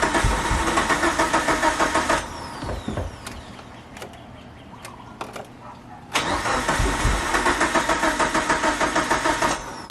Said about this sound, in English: This baby better start up.